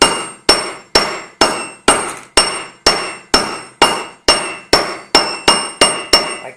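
Metal hammer blows striking a copper washer, about fifteen sharp ringing strikes in a steady, slightly quickening rhythm, loud and close.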